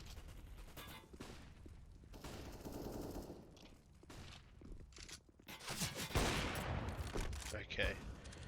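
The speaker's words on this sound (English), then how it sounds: "We just saw some bullets rattle past" Gunfire rattles in a Counter-Strike match, with bursts of rapid automatic shots and single cracks over busy in-game noise and movement.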